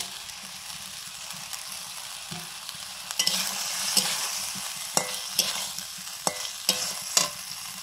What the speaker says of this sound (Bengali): মশলাটা কষানো হয়ে গেছে, এবারে দিচ্ছি চেরা কাঁচা লঙ্কা, ভেজে রাখা আলু